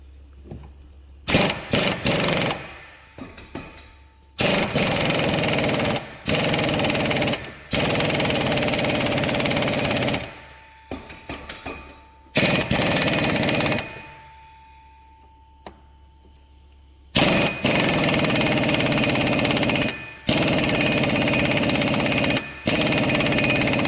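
An impact wrench works on a seized steering part of a Peugeot 307 in loud, rattling bursts of several seconds each, with short quiet gaps between.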